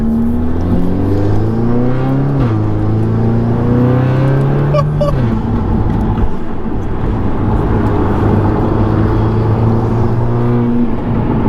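Engine drone from inside a 400 bhp Audi S3, rising and shifting in pitch as it revs and accelerates, loud and steady throughout.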